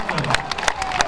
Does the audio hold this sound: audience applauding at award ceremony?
yes